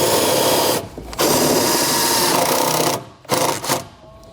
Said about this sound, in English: We can now take a self-tapping screw and mount our solenoid into the firewall.